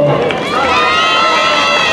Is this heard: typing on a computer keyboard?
no